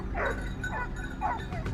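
Hunting dogs bark and yip in a forest at dawn during a wild boar chase, several overlapping voices at moderate distance in a steady, excited run of calls.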